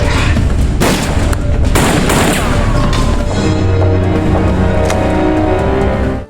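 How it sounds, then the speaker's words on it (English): Gunfire during a tense chase scene in a Prison Break drama, with dense, loud bursts of shots and booms packed together across several seconds over a continuous rumbling background, ending abruptly. "After a bout of gunfire"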